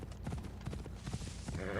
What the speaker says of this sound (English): I'm taking the horse, or I'm taking the horse.